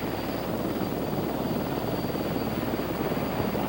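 CH-54 heavy-lift helicopter hovering with a load, a steady dense rotor and turbine roar with a faint high whine, loud and continuous with no talk.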